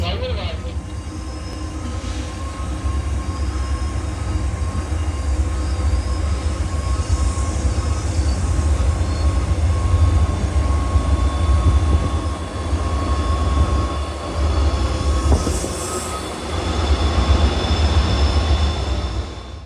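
An Amtrak Southwest Chief passenger train rolls along the rails, a loud continuous low rumble with rattles and squeals inside the car, while people talk over it.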